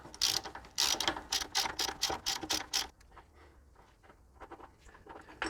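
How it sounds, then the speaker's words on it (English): A ratchet wrench rapidly clicking while loosening the rear wheel bearing lock nut on a Toyota Landcruiser 70/80/105 Series, loud bursts of ratcheting at first, then quieter, sparser clicks. "So we're going to loosen that off and remove the lock nut all the way."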